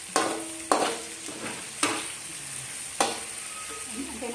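Finely chopped onion sautés in a pan toward browning, giving a soft steady sizzle broken by a few distinct scraping stirs spaced about a second apart, close and fairly quiet.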